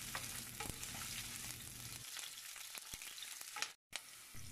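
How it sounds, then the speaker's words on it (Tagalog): Garlic, onion and ginger sautéing in hot oil, a close, steady crackling sizzle with sharp stirring clicks and scrapes scattered through it and a brief drop-out near the end. "Kapag mainit na ang mantika, igisa na natin ang ating garlic."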